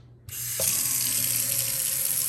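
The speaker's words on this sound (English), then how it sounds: "So let's check the faucet now." A new Kohler kitchen faucet is switched on and cold water runs steadily and loudly into the sink, a continuous hissing stream that starts abruptly after a brief quiet moment.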